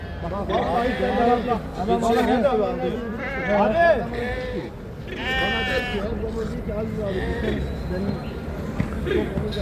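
Goats bleat repeatedly in wavering cries amid busy overlapping talk from several people at a crowded small-livestock market in Çorum, Turkey.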